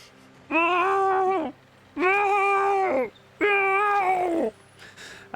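A human voice imitates a cat's distressed yowling during a tabletop role-playing session, with three long wavering yowls separated by brief pauses, loud and close.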